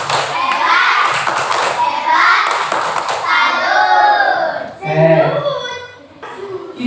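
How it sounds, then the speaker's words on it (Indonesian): A second-grade class of children performs the rhythmic tepuk salut clapping chant, their voices chanting loudly together with sharp hand claps and taps mixed through the pattern. "Yuk kita tepuk salut buat kita semua."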